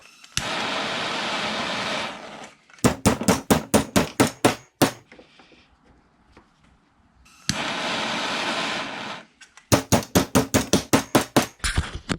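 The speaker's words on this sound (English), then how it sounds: "What we're gonna do is start bending the metal." Metal brackets for a Toro Timemaster 30-inch mower fuel tank are hammered into shape: bursts of rapid, loud, evenly spaced hammer blows alternate with long stretches of harsh, steady roaring hiss, likely a torch, all close up.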